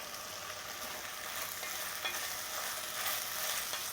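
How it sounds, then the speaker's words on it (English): Eggplant and salted vegetables seasoned with thyme, parsley and basil sauté in a pan for a fish stew. A quiet, steady sizzle continues throughout, with no voices. "I'll go ahead and add the eggplant. Okay, so I'm going to let that saute for a few more minutes."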